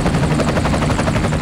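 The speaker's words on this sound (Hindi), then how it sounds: "हेलीकॉप्टर ने बनी गाला से वजीर आजम हाउस के लिए उड़ान भरी" A helicopter carrying the prime minister lifts off from Bani Gala bound for the PM House, its rotor roar loud, close and unbroken, with steady rhythmic blade chop throughout.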